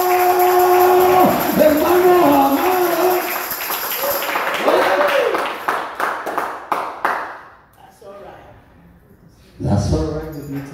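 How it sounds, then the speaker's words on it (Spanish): A congregation claps along during a lively church worship service, sharp rhythmic hand claps mixed with singing and a preacher's voice, fading out briefly before the voices return. "Vamos, le quiere dar palmas a Él"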